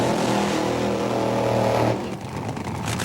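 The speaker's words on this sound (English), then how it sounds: "Blaine Johnson fires up his car." Top fuel dragster engine firing up for a 1995 NHRA final at Richmond, a loud steady roaring drone that drops off abruptly to a rougher idle near the end.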